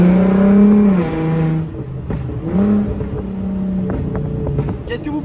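A four-wheel-drive car's engine revs up and falls back several times close by, with sharp exhaust pops and crackles between the revs and someone talking over it.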